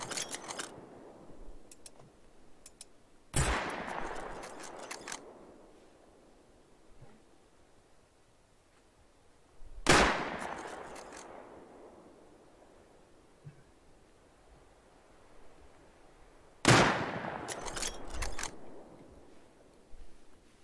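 Gunfire in the video game Rust during a fight at an oil rig: four separate loud bursts of sharp shots, each followed by a decaying echoing tail, separated by quiet gaps of several seconds, with no talking.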